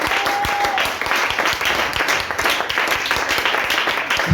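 A church congregation keeps up dense, steady applause throughout, with clapping under a brief sustained tone and a faint murmur of voices.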